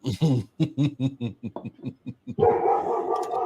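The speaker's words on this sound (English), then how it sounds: "what are you barking about?" A dog barks in a quick series of sharp, close yaps, then lets out a longer whining howl at the end.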